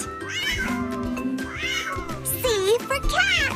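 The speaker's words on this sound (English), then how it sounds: "C for cat." A cartoon cat meows several times in an animated children's alphabet lesson, with bright drawn-out calls rising and falling over background music.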